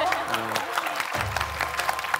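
Studio audience at a lecture applauding, a brief steady patter of clapping with a voice talking over it.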